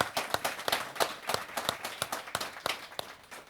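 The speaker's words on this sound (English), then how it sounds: "Let's give a huge round of applause." Scattered hand claps from a small audience, sparse and uneven rather than a full ovation, moderately quiet with no talking.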